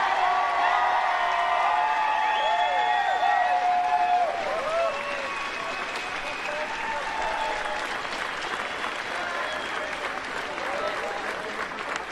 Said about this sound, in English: The crowd have stayed on to cheer them.